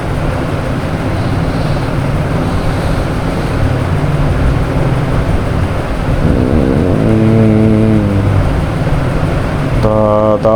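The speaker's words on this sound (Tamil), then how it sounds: "பாருங்கள் கார் ஆப்போசிட்டு" A car passes from the opposite direction during a night motorbike ride near Anaikatti, its rising engine rumble layered over steady bike engine and road noise, with a horn-like tonal blast near the end.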